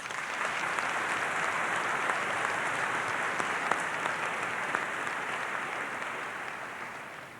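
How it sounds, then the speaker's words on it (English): A graduation crowd at South Carroll High School's 2022 ceremony claps steadily for the class presidents, a dense, even wash of applause that holds for about seven seconds before tapering slightly at the end. "A round of applause for them, please."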